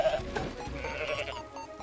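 Bleating from a goat in the video game Goat Simulator, a few short nasal cries over busy game effects and background clutter.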